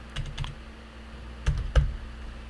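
Keys tapped on a computer keyboard while typing HTML class names, with two short bursts of clicks, then two louder isolated keystrokes, close and otherwise quiet.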